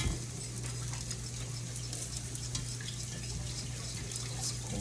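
Whole milk being poured into a pot of broccoli cheddar soup, a steady close liquid trickle and splash against a constant low kitchen hum, without talk.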